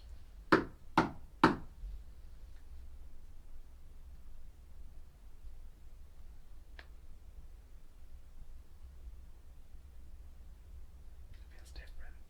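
Three quick, loud knocks on a hard surface come in a short even series at the start inside a house, then fade into quiet room noise with a faint tap later and soft whispering near the end.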